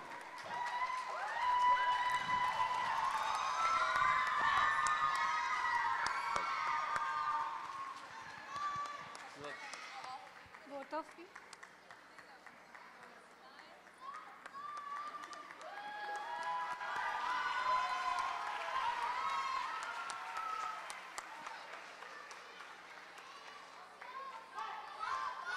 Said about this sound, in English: give them the applause of this group